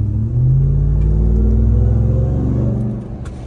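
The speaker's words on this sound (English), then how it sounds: "So you get the nice sound of the HELLCAT supercharger." A Ram TRX pickup with its supercharged Hellcat engine gives a loud, steady, deep rumble as it drives, easing off slightly toward the end, with no talking.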